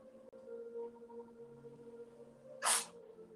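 A single sneeze bursts out at close range near the end of a quiet morning slow flow yoga session, short and sharp over a faint steady hum.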